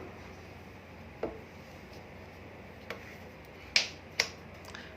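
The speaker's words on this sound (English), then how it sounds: "You can hear the small click sound from this assembly." A few small, sharp clicks from an impact press assembly as its nut is rotated sound at irregular intervals, two of them crisper and louder near the end, over a quiet background hum.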